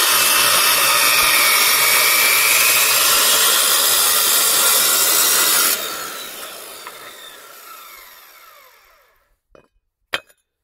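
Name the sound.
cutting firebrick for a wood stove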